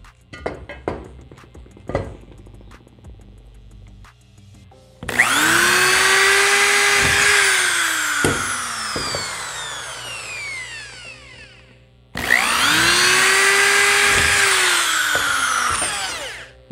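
A power drill bores into an aluminium door frame: a few sharp taps and clicks come first, then two long, loud, whining drilling bursts with a pause between them.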